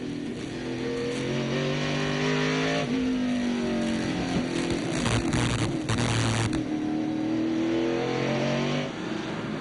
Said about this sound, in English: Then they run 2nd gear all the way through these corners down to the far end of the racetrack.